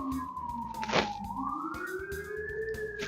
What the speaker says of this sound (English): Some big old sirens going crazy and stuff like this happens